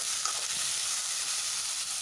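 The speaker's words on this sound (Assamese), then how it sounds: "মই হাই ফ্লেমতে ভাজি ল'ম" Two tomatoes fry over high flame in a pan with browned onions for tomato chutney, giving off a continuous moderate sizzling hiss with faint crackles, steady and close throughout.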